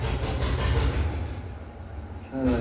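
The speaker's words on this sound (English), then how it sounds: "Diesel engine." A heavy diesel engine rumbles steadily at a distance, a deep continuous drone that swells slightly near the end.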